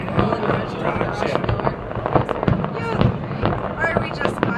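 Canada Day fireworks over River Valley Road in Edmonton, a dense barrage of overlapping bangs, crackles and pops with steady loud rumble throughout.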